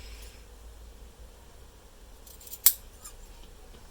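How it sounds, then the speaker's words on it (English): A single crisp snip of sewing scissors cutting a fabric corner close to the stitching on a swimsuit, heard near and alone against quiet room noise. "with this one you're going to snip right at this little corner. Don't snip through your stitches."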